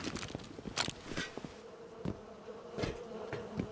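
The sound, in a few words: bees buzzing in a video game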